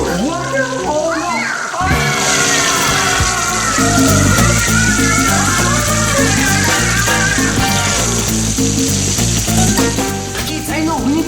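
Water runs steadily as a loud, constant hiss from start to finish. Children's voices and talk play over it.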